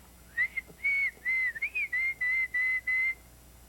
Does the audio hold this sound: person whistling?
yes